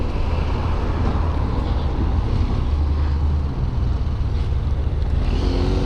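Steady, loud motorcycle engine drone from a BMW F700GS inline-twin on the road, with constant wind rush and low rumble throughout, no talking.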